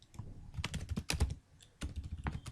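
Quiet, close-up typing on a computer keyboard while writing a code comment, with irregular clusters of key clicks, a short pause in the middle and then more keystrokes.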